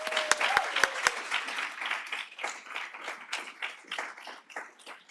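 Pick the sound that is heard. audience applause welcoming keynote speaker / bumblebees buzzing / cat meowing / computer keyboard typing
audience applause welcoming keynote speaker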